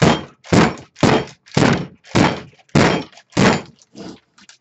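A soap mold full of freshly poured cold process soap is banged down on a table eight times in a steady rhythm, each a loud, close, hollow thunk.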